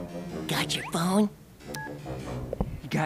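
A short phone keypad tone sounds amid people talking, one brief electronic button beep under the conversation.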